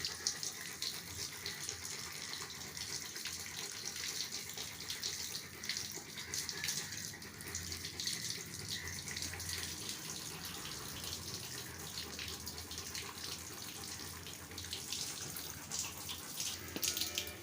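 Water runs and splashes steadily for a long stretch, a constant close rush like a tap pouring over a Rottweiler being bathed, with no talking.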